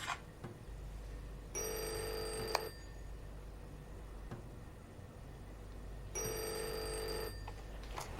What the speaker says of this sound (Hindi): मजीद बेटा टेलीफोन।